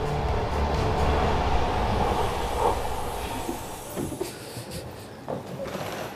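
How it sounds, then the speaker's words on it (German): A night train rumbles and rolls slowly into Innsbruck station with a steady low drone, hissing brakes and occasional clanks as it comes to a halt. "Lediglich mit 15 Minuten Verspätung fährt der Zug in den Innsbrucker Bahnhof ein."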